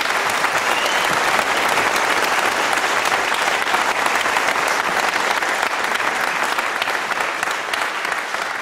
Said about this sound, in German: ganz großen Applaus